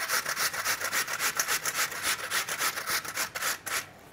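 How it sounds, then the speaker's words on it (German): Food rubbed on a box grater into a bowl while cooking Zürich-style Geschnetzeltes, a close, steady rasping scrape repeating in quick strokes for several seconds before stopping. "nehmen eine Schale, damit wir es direkt in die Schale reiben können und reiben vorsichtig los"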